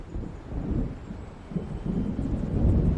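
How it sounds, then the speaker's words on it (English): Low, rolling thunder of an approaching storm in the video game Alan Wake, a continuous deep rumble that builds slightly toward the end, alone without voices. "It seems there's a storm coming."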